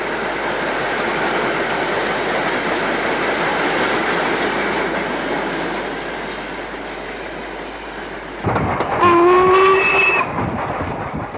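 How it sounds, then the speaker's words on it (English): Black 5 steam locomotive hauling an engineers train near a station on the Shap line, a steady rolling rumble that swells and grows louder toward the end, with squealing, metallic high tones as it passes close by. "North of the station, a Black 5 Heads and Engineers train"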